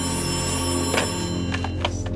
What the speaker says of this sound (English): Sergeant Brown receives a potentially game-changing phone call